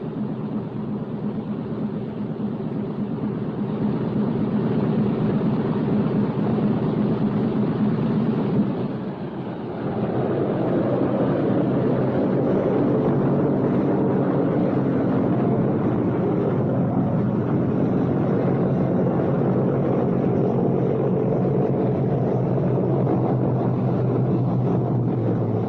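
Big piston engines of a B-17 bomber drone loudly and steadily, dip for a moment, then swell back as they rev up to 1,000 and hold there.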